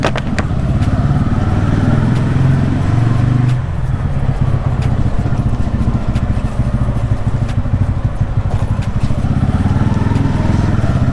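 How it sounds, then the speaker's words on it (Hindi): A 2025 TVS Ronin 225 motorcycle is ridden slowly in second gear, its single-cylinder engine thumping steadily and loud up close, with a brief change in pitch partway through. "सेकंड गियर में बहुत इजीली लेके जा रहे हैं अमन"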